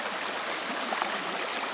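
Water rushes steadily down a creek, a dense, even flow with no pauses, close and fairly loud.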